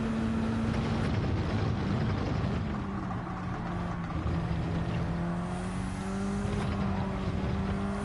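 Racing car engine in Gran Turismo 7 at Catalunya, a continuous whining drone that shifts pitch as the car accelerates and changes gear, with no talk.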